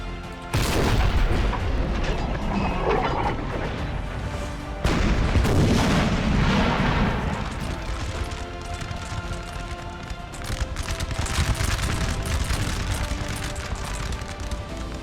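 Booming artillery and crackling gunfire from a Napoleon Total War battle, with heavy cannon blasts landing at intervals over a continuous dense rattle of musket fire.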